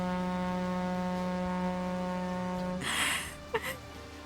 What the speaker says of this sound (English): Honk. Sounds like a ship.